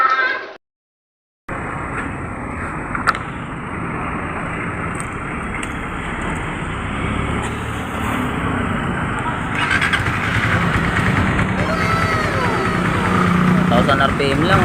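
After a brief gap, a Suzuki Rider 150 fuel-injected motorcycle engine catches and settles into a steady close idle that rises slightly in intensity, with someone talking over it.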